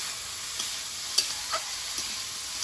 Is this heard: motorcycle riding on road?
no